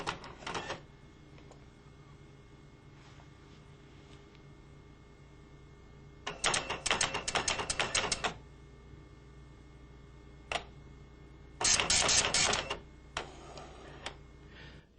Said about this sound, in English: The printer prints out this information.